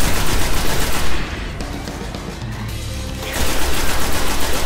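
Rapid automatic gunfire from enemies in the video game Destiny, loud dense bursts that ease for about two seconds and then resume at full intensity.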